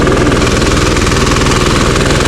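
A rice thresher engine running during harvest while the engine is faulty and smoking, a loud, close, rapid knocking chug that keeps a steady pulse with no pause.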